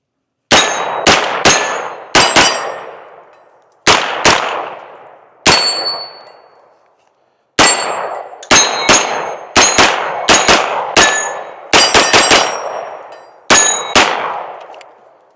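Unsuppressed shots from a Springfield Saint Victor 9mm pistol with a 5.5-inch barrel, loud sharp cracks fired in quick strings and singles with ringing decay, about eighteen in all.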